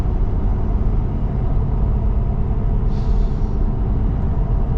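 A Shelby Super Baja diesel Raptor on mud terrain tires cruising on an interstate, giving a steady, loud, continuous low road roar and tire hum from inside the cabin, with no talk.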